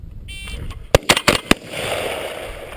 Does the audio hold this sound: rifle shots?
yes